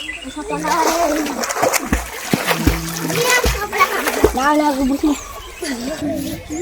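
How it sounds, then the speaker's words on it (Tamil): Children splash and play in lotus pond water in the Bargur Hills, with bursts of splashing under loud, near continuous chatter and shouting from the kids and others nearby. "இங்கே இருக்கக்கூடிய சிறுவர்கள் பார்த்தீங்கன்னா சாதாரணமாக அந்த தண்ணியில் இறங்கி விளையாண்டுட்டு இருக்காங்க"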